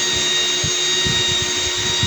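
An electric blower fan runs continuously at a steady, loud, even hum with a whirring tone. Low rhythmic thumps and rumbles come through underneath, with no break in the sound.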